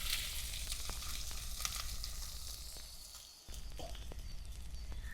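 Chopped onion, garlic and three green chillies sauté in a pan with a soft, continuous sizzle. Light stirring scrapes break through now and then, and the sizzle briefly dips before picking back up.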